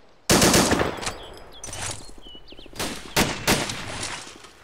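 Gunfire in the Arma 2 co-op military game: a loud opening burst followed by bursts of automatic fire, close and sharp, with sparse cracks and reports in between and a final pair of loud shots.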